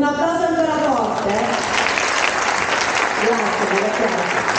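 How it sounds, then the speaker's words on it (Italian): Audience applause at a town band concert in Atessa, a dense wash of clapping that swells and holds for several seconds, with a voice speaking over the start. "Un applauso ancora forte."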